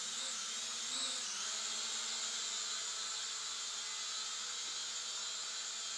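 A small foldable camera drone climbs, its high, thin propeller whine holding steady throughout, fairly quiet and alone with no voices.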